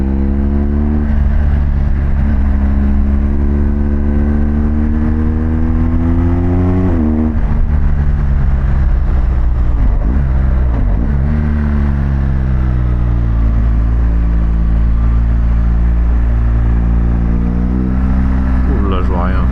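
A BMW GS Adventure motorcycle on the move sends out a loud, steady engine drone that rises and falls as the rider shifts and changes speed, with wind rush over it throughout.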